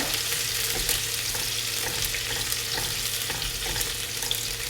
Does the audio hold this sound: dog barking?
no